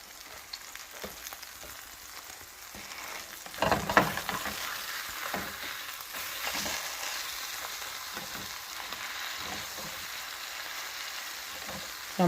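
A burger patty frying in a pan at home for a cheeseburger, with steady close sizzling throughout and a few brief clatters and stirring scrapes partway through.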